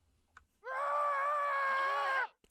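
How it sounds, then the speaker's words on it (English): Screaming goat in Minecraft, one long, loud, strained bleating scream lasting over a second, heard alone against silence. "That's screaming goat!"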